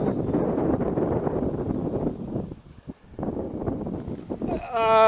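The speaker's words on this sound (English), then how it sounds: "This wind has been a little beneficial" Strong storm wind buffets a cyclist on a long-distance bicycle tour, roaring loudly and steadily with a brief lull midway, and a voice rises over it at the end.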